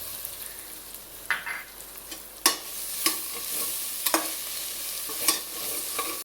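Mint and coriander leaves sizzle and fry in a pan for biryani, with a steady hiss broken by several sharp stirring scrapes and clinks at irregular intervals.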